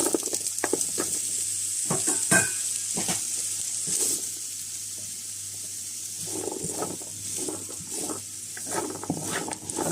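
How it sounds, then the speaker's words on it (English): Carrots stir-frying in a little oil, with a steady hiss of sizzling and irregular scraping stir strokes against the pan, close and moderately loud. "So now I'm going to fry the carrots."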